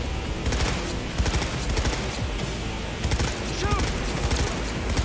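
Sniper and other gunfire in Cyberpunk 2077 on Very Hard difficulty. It comes as a rapid, dense stream of overlapping shots and impacts, with bursts of loud cracks spread throughout, sometimes under a speaking voice.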